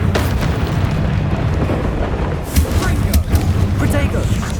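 A Confringo spell explosion in the video game Hogwarts Legacy bursts into a loud, sustained booming roar with crackling debris, rumbling on for several seconds amid a spider fight, with voices heard over it.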